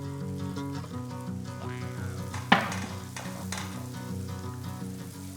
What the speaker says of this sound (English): Butter's melted, straight in with the asparagus.